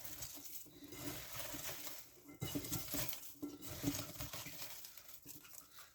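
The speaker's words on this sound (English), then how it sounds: "just going to give it a little stir and break up the rings" Red onion rings being stirred in a bowl, a quiet, close patter of wet rustling and light clinks in uneven bursts.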